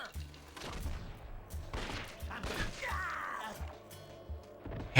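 Pistol shots in the Red Dead Revolver video game, a handful of sharp reports spaced irregularly amid game sounds and a voice talking.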